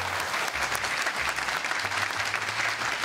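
A live audience at a comedy show applauds loudly and continuously, a dense, even patter of clapping hands with no voices over it.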